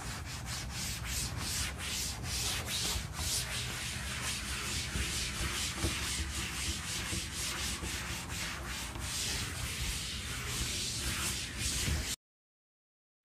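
Steady scrubbing of a board eraser wiping writing off a classroom board, a continuous rhythmic rubbing sound for about twelve seconds with no talking.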